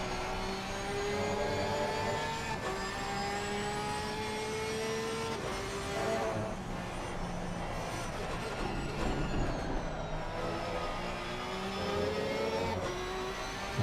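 A Porsche race car in a sim racing game at Imola drones through a lap, its engine note rising through the gears with sharp drops at shifts, steady and prominent with no talk over it.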